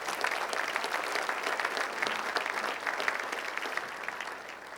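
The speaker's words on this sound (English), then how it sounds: "Please give them another round of applause" Audience at the Hawthorne State of the City address gives sustained applause for graffiti-removal workers, a steady, moderately distant roar of many hands clapping that tapers slightly at the end.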